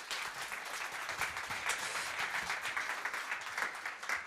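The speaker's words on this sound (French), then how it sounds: "Cyril, je pense qu'on peut t'applaudir" At a leboncoin tech and PAUG meetup, the audience applauds a speaker with steady, fairly soft clapping that continues without a break.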